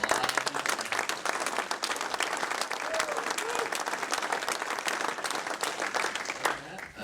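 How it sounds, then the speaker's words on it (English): Audience applause fills a room at a Minnesota musky fishing tournament gathering, dense steady clapping lasting throughout and tapering off near the end. "a big round of applause for making a wonderful bait"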